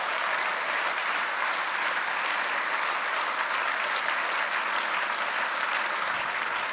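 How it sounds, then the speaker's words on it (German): Sustained applause from a large audience at a party conference fills the hall during a political speech, a dense even wash of clapping that holds steady for several seconds. "Applaus"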